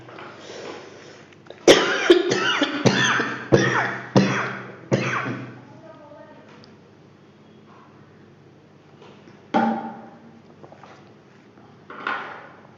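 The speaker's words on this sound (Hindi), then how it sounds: "खांसी आ गई" A burst of several harsh coughs in quick succession, then a pause and two more separate coughs, loud and close.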